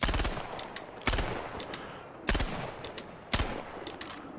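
A Gemini C54 SMG fires in the video game Star Citizen. Four sharp, loud bursts of rapid gunfire come at roughly one-second intervals, each followed by brief metallic clicks, with no speech.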